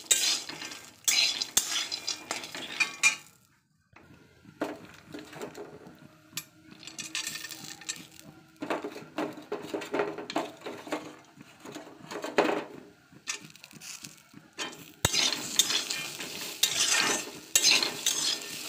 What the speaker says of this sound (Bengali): লো ফ্লেমে বাদামটা ভাজতে হবে যাতে না পুড়ে যায়